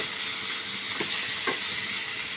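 Cucumber pieces with salt and turmeric fry in a pan under a steady, close hiss of sizzling, with a couple of soft scraping stirs of a spatula and no talking.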